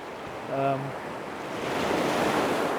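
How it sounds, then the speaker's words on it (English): Ocean waves crash against rocks at sunrise in a faint, steady roar of surf, with a short tonal call near the start. "those waves are really coming in now"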